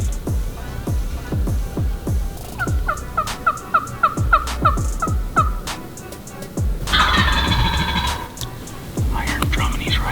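A wild turkey gobbles during an Alabama turkey hunt, with repeated calls and rattling bursts over a busy outdoor background, moderately close, amid crunching movement and other noises.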